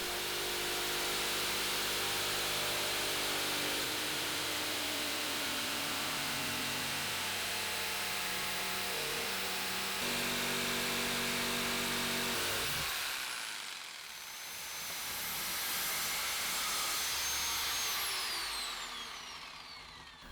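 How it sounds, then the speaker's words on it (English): Jigsaw cutting a curved detail into wooden supports for a small table, a loud continuous buzzing whine that drops out briefly midway before the blade starts again. "I have a little curve detail, so I'm drawing it out and cutting it with my jigsaw."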